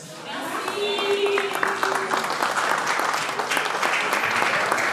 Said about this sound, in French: Mesdames et messieurs, je vous prie d'applaudir encore une fois très fort.